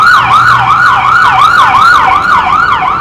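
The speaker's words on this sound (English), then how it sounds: "It's a senior care ambulance." Senior care ambulance siren wails loud and close in a fast, repeating up-and-down sweep, heard alone over a low road rumble.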